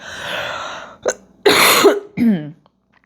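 Several harsh, raspy coughs close by from a person who has been ill, uneven bursts separated by short gaps, the last trailing into a throaty rasp.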